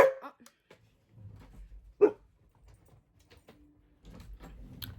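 A pet dog gives a couple of short, sharp barks indoors, with a loud yelp near the start and another around the middle. Quiet gaps and a few soft household noises sit between them.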